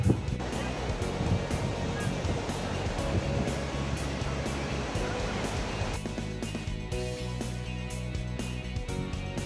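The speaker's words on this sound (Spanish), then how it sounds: "viene en el mar con muchas olas que rompen acá en la Punta Sur" Continuous roar of sea waves breaking against the cliffs at Punta Sur on Isla Mujeres, a steady loud wash of surf with no clear pauses throughout.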